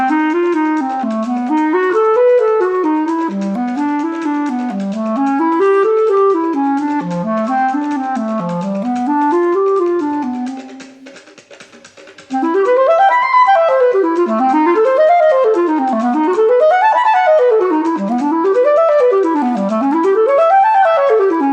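A diatonic fifths chord progression with secondary dominant chords played on a keyboard, as flowing arpeggiated figures rising and falling, steady and fairly loud, with a brief dip in the middle before a brighter, wider-ranging passage.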